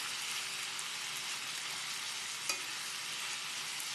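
Shrimp and mango stirred and frying in hot oil, a dense, even sizzle throughout with one brief utensil clink partway through, no speech.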